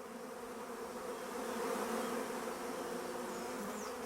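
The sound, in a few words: swarming honey bees buzzing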